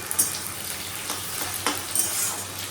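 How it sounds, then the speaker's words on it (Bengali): Onions fry in a pan with a soft, continuous sizzle, broken by a few light utensil clinks and stirring strokes. "পেঁয়াজটা বেশ ভালো ভাজা হয়েছে আজকে"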